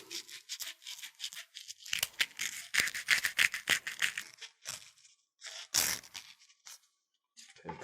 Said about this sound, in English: just scuffing up the blank